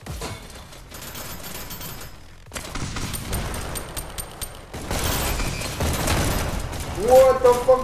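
Bursts of gunfire in the VR shooter Hyper Dash, loud and dense with booming shots through much of the stretch, with game effects mixed in and a player talking over it.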